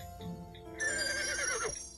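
A horse in the Barbie Wild Horse Rescue video game gives a single clear, wavering neigh lasting about a second over a quiet game backdrop, with no one talking.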